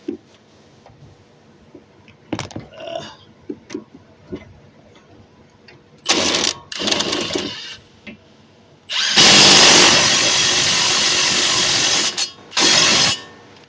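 Brake caliper bolts on a 2011-2023 Dodge Charger are tightened with a power tool and a ratchet, giving quiet ticking clicks followed by loud, sustained whirring bursts, close by.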